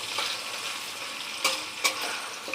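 Onions frying in a pan for a Bengali fish curry, a steady soft sizzle with a couple of brief sharper crackles or stirring scrapes, close and alone without talk.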